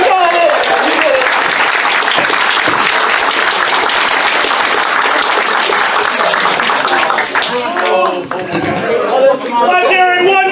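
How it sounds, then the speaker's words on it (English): A comedy-show crowd claps loudly and continuously, mixed with chatter and babble; near the end the clapping thins and voices rise above it. "Now you clap. You clap now."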